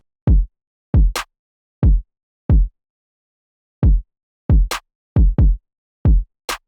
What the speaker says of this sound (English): I made a kick and clap pattern that sounds like this.